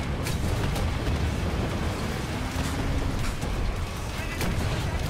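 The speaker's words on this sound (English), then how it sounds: "Those rockets just love to hit everything except for what they're intended to." Rocket explosions and gunfire in the shooter Wolfenstein: The New Order, a continuous loud, dense barrage of booms and sharp cracks rumbling throughout, no voices.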